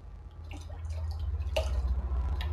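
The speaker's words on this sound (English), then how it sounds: "I'm gonna pour the orange juice in it." Orange juice is poured into vodka, making soft irregular drips and splashes over a low background rumble, with a brighter splash partway through.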